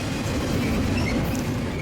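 A BNSF freight train rolling past Fullerton Station, loud and close, a continuous heavy rumble with wheel noise and faint high squeals throughout.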